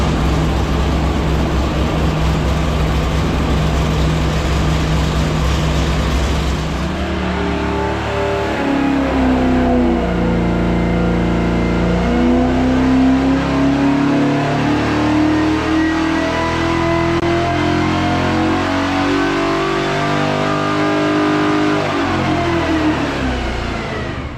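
A small-block 350 Chevy V8 on an engine dyno during a pull: loud, close, sustained revving that climbs steadily in pitch, then holds a high, raw roar, with no voices.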